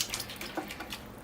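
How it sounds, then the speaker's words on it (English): Water is sprinkled over moss in a bonsai planting, a soft, quiet hiss of spray and trickle lasting about a second, with no voices. "I'm going to water the moss"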